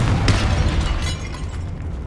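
Confringo blasting spell explosion in the Hogwarts Legacy video game, a loud booming burst with crackling debris that rumbles and fades over about two seconds.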